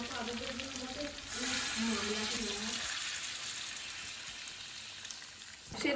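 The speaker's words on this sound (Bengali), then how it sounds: "সেদ্ধ হওয়ার মতো জল ঢেলে নিলাম গরম জল।" Hot water poured into a pan of mutton curry cooked down until its oil separates, raising a loud, close hiss and sizzle that eases a little after a few seconds.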